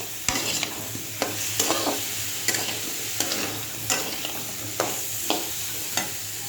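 Crab sizzles in a hot pan with a little spice while a spoon stirs it, giving a steady frying hiss broken by regular scraping knocks about every half second, close and clear.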